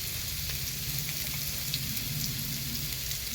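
Cubed potatoes frying in a pan, a soft continuous sizzle with fine crackling pops, steady and fairly quiet throughout.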